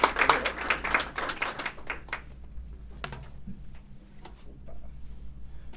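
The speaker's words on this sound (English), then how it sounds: "Please help me welcome him with a big round of applause." An audience at a climate event applauds to welcome a congressman who chairs the House Natural Resources Committee. The clapping is dense and loud at first, then thins out into scattered, fading claps.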